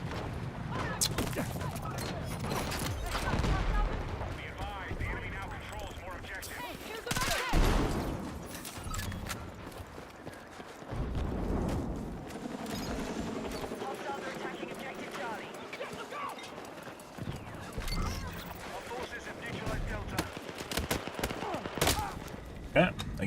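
Vector submachine gun fire in Battlefield 6, with rapid bursts and scattered shots amid chaotic battle noise, while someone talks over much of it.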